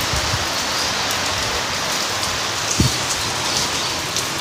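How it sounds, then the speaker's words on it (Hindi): Steady, dense rain pouring down in a continuous hiss, with a couple of brief low thumps partway through; no voices. "इतनी तेज़ बारिश"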